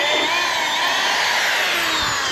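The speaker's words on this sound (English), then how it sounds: "I'm gonna drill it out and throw some helicoils in" A power drill bores out soft aluminum on a 1984 Harley-Davidson to take a helicoil insert, a loud, steady, high whine running close and unbroken with no talking.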